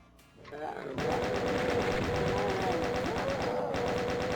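Rapid, sustained automatic fire from chaingunner enemies in the video game DOOM, a dense relentless rattle that kicks in abruptly and continues loud throughout.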